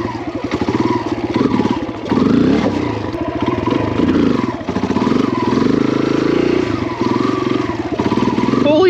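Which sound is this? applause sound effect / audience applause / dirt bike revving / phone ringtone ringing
dirt bike revving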